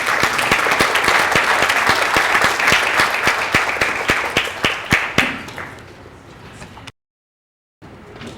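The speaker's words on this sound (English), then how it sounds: "let's all give them a big round of applause" A crowd applauds with sustained, dense clapping that gradually fades toward the end, followed by a brief gap and softer background noise.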